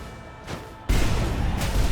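A bomb-style explosion fired off by a character swap in Skul: the Hero Slayer, a dense, loud burst that hits suddenly and holds as a rumbling roar, following a softer whoosh.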